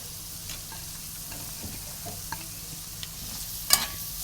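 Grated carrot with a chopped onion being stirred and fried in a pan, a steady faint sizzle with occasional light scrapes and clicks of a utensil, no talk.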